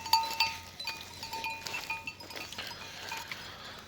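Sheep and lambs out in a green field, with several high, thin bleats ringing out over a soft, continuous bed of farmyard noise, and a few faint clinks scattered among them.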